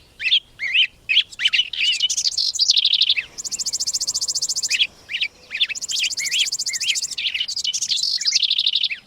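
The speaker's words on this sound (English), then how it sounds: "new songbird migrants work north from the tropics, adding bit by bit to spring's ever-growing soundtrack" Spring songbird migrants sing in a close, loud series of bright chirps and rapid trilled phrases. The song comes in repeated bursts with brief pauses and no voices.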